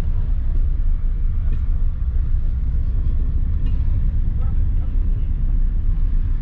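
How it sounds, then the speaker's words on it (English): A broken race car being towed through a track paddock at Castle Combe, a loud steady low engine rumble and road drone filling the whole stretch with faint clunks. "So here we are getting towed."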